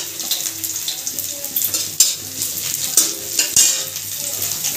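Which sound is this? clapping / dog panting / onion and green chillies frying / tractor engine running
onion and green chillies frying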